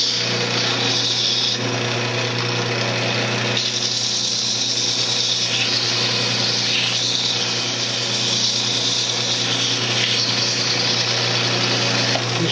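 Apple wood weed pot being sanded on a woodturning lathe, with a steady loud machine drone and a continuous high hiss from start to finish, alone and without talk.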